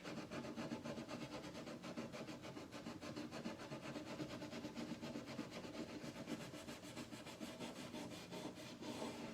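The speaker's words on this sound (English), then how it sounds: "I'm literally just scraping it on top of the bridge." A tool scrapes back and forth across the top of a guitar bridge during cleaning, a quiet, rhythmic rasping rub repeated in quick even strokes, close up, with no voices.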